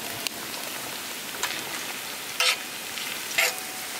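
Sliced shallots frying in hot oil, a steady close sizzle and crackle with a few sharp pops and splashes rising above it.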